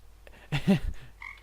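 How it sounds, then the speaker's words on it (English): Frog croaks from the Windows Me jungle desktop theme, a few short croaking bursts in the middle of a brief quiet system sound, fairly close and moderately loud. "Frogs ribbiting, I swear to God."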